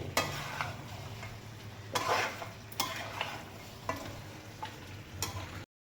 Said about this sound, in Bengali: মাংসটা নাড়তে নাড়তে এই জায়গায় এসেছে এই যে কষিয়ে এই অবস্থা